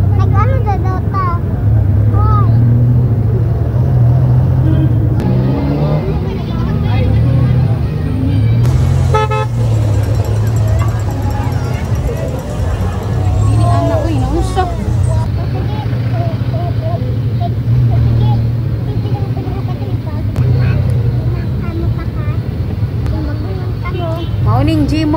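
Heavy street traffic in Davao during a rally, a constant loud engine drone with honking horns, close and continuous, while someone talks over it throughout.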